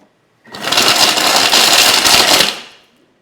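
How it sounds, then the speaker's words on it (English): A Thermomix on turbo chops frozen bananas for ice cream, a loud, close burst of grinding and rattling whir that starts abruptly, holds steady for about two seconds, then winds down. "I'm going to use turbo to chop everything up first."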